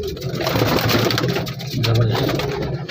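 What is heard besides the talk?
Sharkha pigeon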